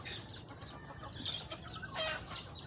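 Chickens kept for eating on a small farm cluck and squawk in scattered, quiet calls over a low background hum, with no one speaking.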